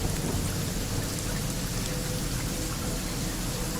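Thunderstorm sound effect in a narrated story: loud, unbroken rain roars over a low thunder rumble, dense and steady from start to finish with no voices.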